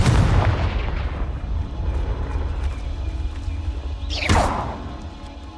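A Confringo fire-blast spell explosion in the video game Hogwarts Legacy, a loud booming blast at the start that decays into rumbling debris, followed by a second sharp whooshing burst near the end.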